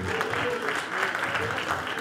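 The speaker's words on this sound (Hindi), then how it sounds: "इनके लिए तालियां बजाइए भाई साहब को" Steady applause from an audience at a music quiz show, a continuous even roar of clapping hands filling the whole short stretch, with no talk over it.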